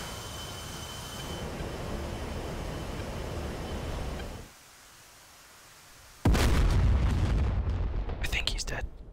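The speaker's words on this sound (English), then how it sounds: "I guess I'll use my laser guided rockets" Laser-guided rockets in a video game: a long loud rumbling roar cuts to near silence, then a sudden heavy explosion bursts in close and booming, with crackling debris trailing after.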